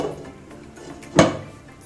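A metal lid is set down on a cooking pot of simmering dhaba-style paneer masala gravy, giving a single short clattering knock in an otherwise quiet kitchen.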